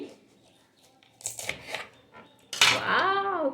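A knife cuts into a small fresh dragon fruit picked from the tree, giving close, short scraping and slicing sounds, with a brief burst of voice near the end.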